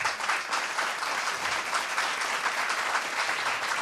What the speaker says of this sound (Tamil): அந்த பொண்ணுக்கு ஒரு நிமிஷம் இடைவிடாத ஒரு கைத்தட்டு கொடுங்க